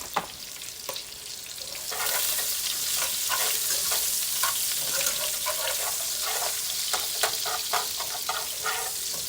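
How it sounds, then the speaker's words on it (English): Onions hit a hot pan of cube steak drippings for gravy, erupting into a loud continuous sizzle with scraping stirs and crackles throughout. "I'm going to throw some onions in here. Throw those onions in there."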